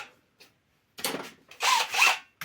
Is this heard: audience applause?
no